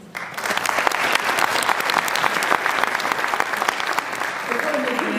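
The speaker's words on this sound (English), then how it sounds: "I'm going to ask that we hold applause for each question" An audience at a community forum claps in sustained applause, dense and fairly close, steady for several seconds.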